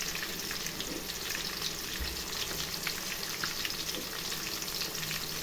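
Onions and green chillies fry in a pan with a steady, close, dense sizzle that continues evenly throughout, with no talk.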